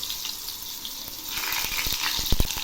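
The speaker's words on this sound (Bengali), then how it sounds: "এবার আমি এই পেঁয়াজগুলো বেরেস্তা করে নেব। এগুলি আর একটু ভাজা হবে।" Thinly sliced onions fry in a little oil in a wok (kadai) until crisp and golden, giving a steady close hiss with a few sharp crackles and pops toward the end.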